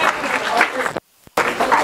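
Children and adults in a conference audience clap in a dense, steady applause that drops out briefly and then picks up again.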